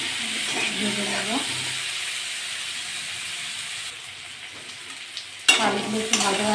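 Potatoes frying in oil and being stirred in a pan for a fish curry, a steady sizzle with scraping stirs near the start and end, and a louder clatter late on.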